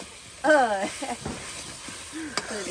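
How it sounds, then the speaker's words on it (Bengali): Spice paste sizzles and is stirred in a pan for a tilapia and papaya fish curry, cooked village-style. The soft frying hiss runs steadily beneath voices that talk over it. "এই যে দেখুন মশলাটা কিন্তু সুন্দর করে কষানো হচ্ছে"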